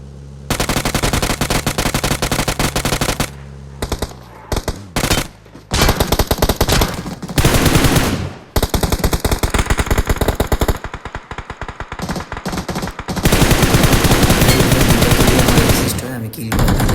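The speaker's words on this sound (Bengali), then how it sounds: "আবার এনিমির ফায়ার পাইলাম" Enemy gunfire in a battle royale shooter rattles in long, loud automatic bursts with short pauses between them, close and dominant, with occasional speech in the background.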